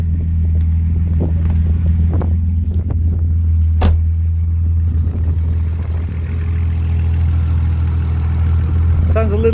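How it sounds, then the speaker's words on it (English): A BMW Z engine idles with a steady, loud low rumble and a faintly tappety valve clatter running throughout, close by and continuous, with a few brief knocks and faint background voices. "Sounds a little bit tappety, I guess, with an engine flush and some new oil, that would sound better."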